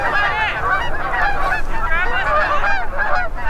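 A flock of geese honks continuously and loudly overhead during a late-season goose hunt in Wisconsin, many overlapping calls in a dense chorus.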